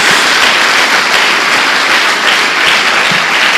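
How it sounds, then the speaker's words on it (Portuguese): A church congregation claps in steady, dense applause during a worship service, loud and continuous throughout with no voices standing out. "Dê uma salva de palmas ao Senhor."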